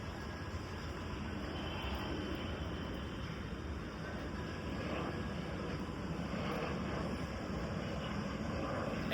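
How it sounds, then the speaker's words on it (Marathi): Airplane passing overhead near a city terminus, a steady, distant broadband engine roar that holds level throughout with no voices. "बघा तुम्हाला विमान दाखवतो."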